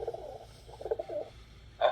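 A homing pigeon returning with a message coos softly in a few low, burbling phrases, moderately close, with a short louder burst at the end over faint background hum.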